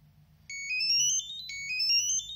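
A Geiger counter dosimeter plays a short electronic melody: two bursts of clear, bright beeping tones, each a rising run of notes about a second long, close and alone over a faint low hum.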